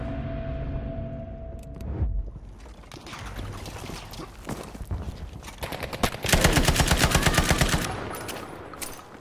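Type 11 light machine gun firing in a Battlefield-style video game match on Iwo Jima, loud close bursts of rapid automatic fire, with a sustained rattling burst in the second half among scattered other shots and battle noise.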